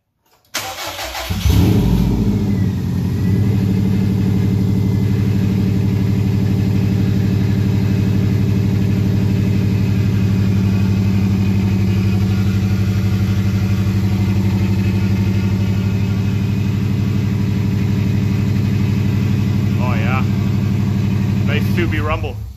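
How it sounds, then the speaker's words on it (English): A Subaru WRX engine swapped into a GC8 2.5RS coupe, with no exhaust fitted, cranks and catches, then settles into a loud, steady, rumbling idle inside a garage for about twenty seconds before cutting off. "It's gonna be loud without the exhaust in there."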